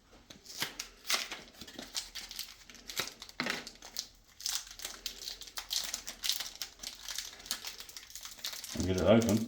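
Pokemon trading card pack wrapper crinkling and tearing in hand at close range, busy rustling throughout with a louder burst near the end, while people talk over it.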